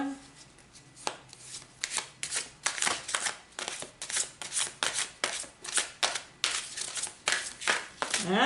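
Repeated riffle-shuffling of a deck of cards, a rapid series of crisp papery bursts in steady rhythm, close up.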